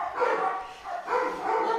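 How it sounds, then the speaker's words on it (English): Three dogs of clearly different sizes, a big one, a medium one and a very small one, bark together continuously in two loud overlapping bursts, close by, with no one talking. "Now we have 3 dogs barking. It's not stopping."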